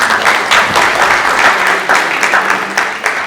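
Loud, steady applause from an audience at a book launch event in a hall, filling the whole span without a break and with no voices over it.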